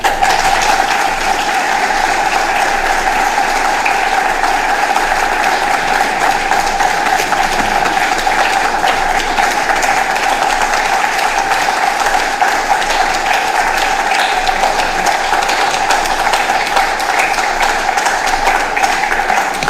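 Sustained applause from a seated audience at a state of the region address, steady dense clapping with no break and no talking over it.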